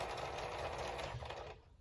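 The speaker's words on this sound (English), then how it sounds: "chain sew right onto this little piece of fabric" A sewing machine chain-sewing onto a small piece of fabric while quilting, a fast, steady mechanical whir of stitching close by that stops abruptly near the end.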